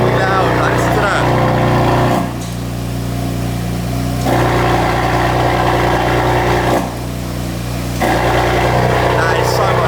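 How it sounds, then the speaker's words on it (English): A BMW M4 with a loud aftermarket exhaust idling after a cold start with the valves shut, a steady deep rumble that dips and swells slightly, with a voice speaking over it. "So we'll do cold start with the valves shut, and then we'll do cold start with the valves open."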